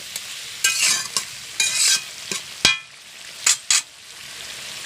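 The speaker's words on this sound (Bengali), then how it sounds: "সামান্য পরিমাণে গরম জল দিয়ে দেবো মাখানো কষানোর জন্য" Chicken meat cooking in a pan for chicken bhuna khichuri after a little hot water is added, loud hissing sizzle bursts alternating with stirring scrapes, close and irregular.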